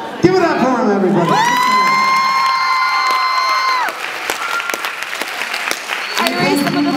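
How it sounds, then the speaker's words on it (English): A crowd at a live hypnosis stage show claps and cheers loudly, with a long whoop and shouts over continuous applause, and voices rising again near the end. "Nice round of applause for the stars of the show, everybody."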